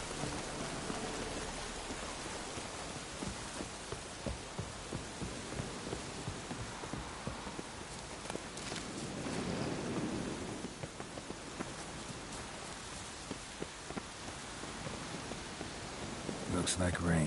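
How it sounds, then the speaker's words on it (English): Steady rain hiss with low rumbles of thunder from The Witcher 3 game world, a continuous soft wash running throughout with brief louder swells, faint talk mixed in. "Looks like rain."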